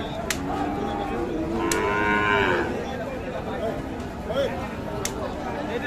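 Cattle at a busy livestock market, one cow giving a drawn-out moo about midway through, with more lowing now and then over constant crowd chatter and bargaining voices.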